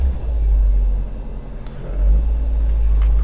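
A cheap basic manual-transmission car's engine runs after starting, a loud low idle rumble that dips briefly in the middle and then swells again, with no talk.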